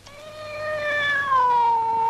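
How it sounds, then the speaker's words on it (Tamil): A cat gives a single, long, drawn-out meow that swells in loudness and glides slightly downward in pitch, heard clearly and alone. "இது பூனை."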